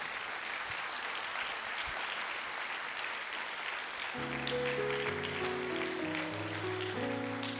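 A church congregation applauds during a Spanish-language service, a soft, continuous patter of many hands; partway through, sustained keyboard or organ chords enter and carry on beneath the clapping.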